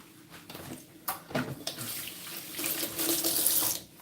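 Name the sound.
tap water running while washing a juicer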